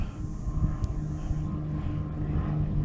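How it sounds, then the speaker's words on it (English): A distant airplane drones overhead on a hiking overlook in a wildlife management area, a steady low rumbling hum that holds evenly throughout, with no talk. "Can we pick up that plane over there?"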